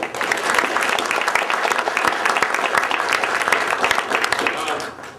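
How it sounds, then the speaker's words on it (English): Audience at a lecture on an aviation program and the Tuskegee Airmen giving a round of applause, dense, steady clapping filling the room close by for several seconds. "So let's give him a big round of applause for that."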